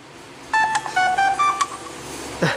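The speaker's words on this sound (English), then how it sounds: "there's a new notification." A phone notification chime, a short run of bright electronic tones with a few quick beeps, close and clear with no talking.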